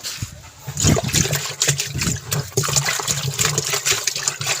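Water runs and splashes unevenly nearby, gurgling and trickling as if something is being rinsed under a flow.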